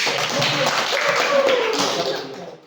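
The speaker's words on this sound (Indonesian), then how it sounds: "Oke, berikan aplaus dulu" Classroom audience clapping after a group presentation, a dense, close burst of applause that holds steady for about two seconds before fading out, with some voices mixed in.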